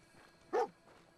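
A single short, sharp bark from the dog companion in Fallout 4. It is close and distinct against a quiet game background, with faint murmuring around it.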